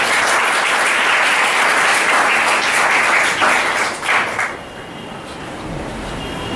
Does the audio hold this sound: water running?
no